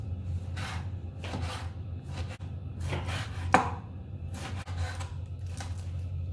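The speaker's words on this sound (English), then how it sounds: "Now I'm cutting the pork in strips." A knife chops pork into strips on a cutting board, giving bursts of quick, rhythmic close-up knocks separated by short pauses, with no voices.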